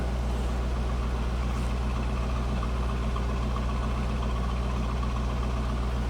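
A 2004 Chevrolet Corvette Convertible idles steadily with a low, even exhaust rumble, constant and fairly loud throughout.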